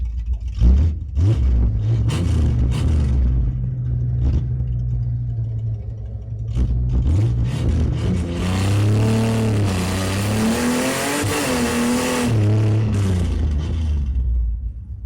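A Valiant 265 Hemi engine revs on a dyno run, rising from a steady low rumble into a long, loud, climbing howl that holds near the top before easing back, with close engine blips at the start.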